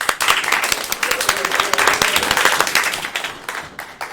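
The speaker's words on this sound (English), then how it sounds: "Let's practice that. Everybody clap." A classroom of students claps together in unison, a dense run of sharp hand claps lasting several seconds with a teacher's voice faintly in the mix before the group cuts off.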